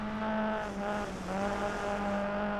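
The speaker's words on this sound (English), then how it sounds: "I'll be quiet here and I'll let you listen to the sounds of the cars" Rally cars from the Sébastien Loeb Rally EVO video game drone with a steady, loud engine note that dips briefly and climbs again, with no voices over it.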